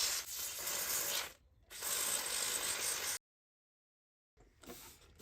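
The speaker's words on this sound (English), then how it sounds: "So let's brush down the board and clean the connectors" A brush scrubs across a 1989 SAM Coupé circuit board and its connectors in steady close strokes, with a brief pause and then a silent gap before the brushing resumes.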